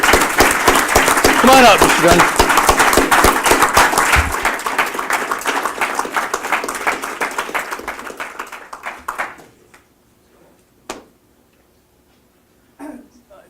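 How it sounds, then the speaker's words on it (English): Big round of applause from an audience at a school board meeting honoring a national principal award recipient, dense clapping that fades out over several seconds, with a brief spoken line and scattered claps afterward. "let's give him a big round of applause"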